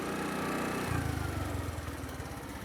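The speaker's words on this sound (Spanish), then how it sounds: "Moto." Motorcycle engine running on a rural road, a rough low rumble that swells and pulses as it revs up, moderately close and alone with no talk.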